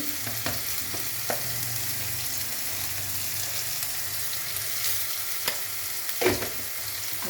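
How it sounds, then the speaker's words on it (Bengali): Cauliflower and potato sauté in a pan, a steady close sizzle running throughout, with a few sharp scraping clinks of a utensil stirring the vegetables. "এটাকে কষাই, তারপরে নুন দেবো।"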